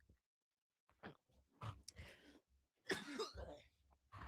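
A few close, hoarse coughs and throat-clearing bursts separated by short silences, quiet overall.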